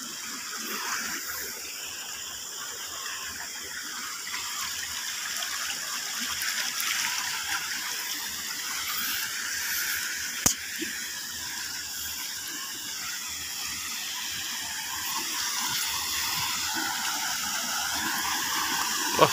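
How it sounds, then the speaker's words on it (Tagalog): Strong water current rushing past a damaged roadside detour, a steady broadband wash that stays loud and continuous throughout, with no voices. "Parang lakas ng agos"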